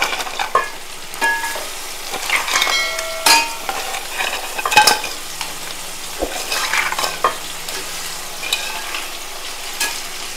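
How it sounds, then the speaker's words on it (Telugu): Crabs fry in ginger garlic paste as a spoon stirs and scrapes through them, with soft sizzling, intermittent clinks and scraping strokes at close range; no voices. "పీతలు వేగుతున్నాయి అల్లం వెల్లుల్లి పేస్ట్లోని"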